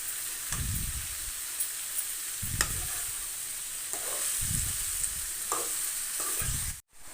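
Mushroom curry being stirred in a pan, with repeated scraping strokes of a spoon at a slow, regular pace over a continuous soft sizzle.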